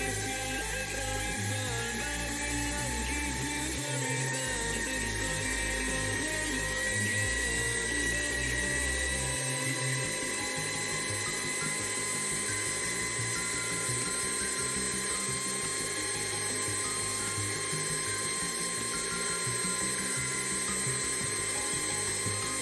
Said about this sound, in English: I need to drill these little rectangles out there